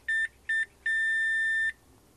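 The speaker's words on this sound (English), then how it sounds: "To turn it on, you just push this one. Hear a couple beeps." Three clear electronic beeps, two short ones followed by a longer tone, loud and close with no talking.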